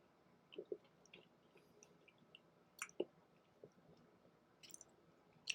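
Someone eats a spoonful of a Wendy's Frosty with brownie batter and Oreo chunks, making faint, close, soft chewing and squishing sounds with scattered small clicks and quiet gaps.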